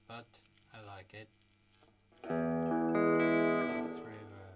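Electric guitar played through a Bugera V5 amp with reverb, a loud sustained chord ringing out and slowly decaying after a few quieter plucked notes, with a voice speaking briefly at the start.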